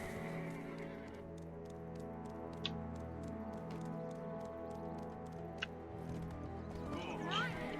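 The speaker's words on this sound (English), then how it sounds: "if I can get my horse to cooperate with me" A horse in the Black Desert Online video game, with a brisk clip-clop of hooves and a whinny near the end over a steady game soundscape, quiet and mid-distance, while a voice talks at times.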